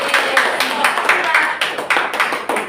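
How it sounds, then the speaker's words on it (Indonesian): Primary school classroom clapping for classmates after a presentation, a burst of uneven claps from a small group of children with some voices mixed in, fairly close and steady for a few seconds. "Oke, tepuk tangan untuk mereka."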